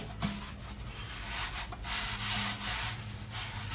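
Close, continuous back-and-forth sanding on the thin mulberry wood body of a handmade bağlama, a steady gritty rasp with a faint low hum underneath.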